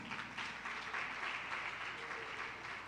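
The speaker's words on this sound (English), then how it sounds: "Give her a round of applause." Audience applause for a teacher at a primary school graduation ceremony, a steady crowd of clapping hands, moderately distant and sustained throughout with no clear voices.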